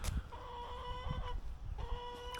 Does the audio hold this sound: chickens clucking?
yes